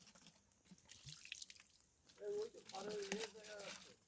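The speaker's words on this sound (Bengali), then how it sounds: "পানি ঠান্ডা পানি দিয়ে হাত ধুয়ে নেই" Cold water running and dripping over hands being washed outdoors on a trip to a village, with soft splashes and drips while a voice talks over the latter half.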